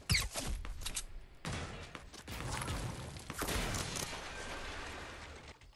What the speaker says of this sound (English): Where was that gunfire coming from?